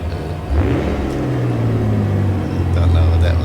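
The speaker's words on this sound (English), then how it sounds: "initially there was not a response from the throttle until I gunned it up" A light aircraft engine at ground idle near 660 RPM is throttled up during a pre-flight run-up, its low droning tone climbing sharply, then holding a loud, steady hum close by.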